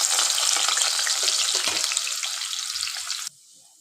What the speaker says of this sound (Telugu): ఇప్పుడు ఆయిల్ అయితే హీట్ అయ్యింది. సో ఆనియన్స్ అయితే మనం వేసుకోవాలి.